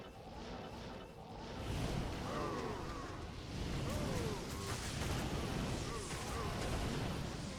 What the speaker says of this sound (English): it's probably going to be the corpse explosion you're going to notice is doing most of the work here.